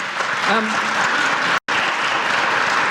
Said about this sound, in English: could you hold applause until the end of the session?